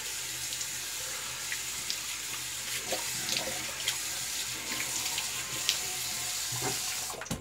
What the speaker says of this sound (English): Let's hit up the cold water and get the brush rinsed.